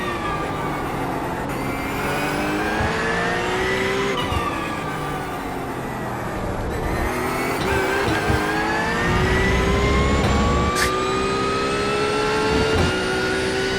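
Race car engine in the iRacing sim game revving hard, pitch climbing and dropping through shifts including a downshift mid-corner, loud and continuous without talk.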